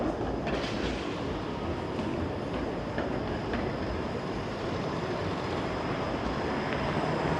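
A Toronto streetcar passes on the street near Roncesvalles, a loud sustained rumble of wheels on rails with faint clicking, heard close and continuous with no talking.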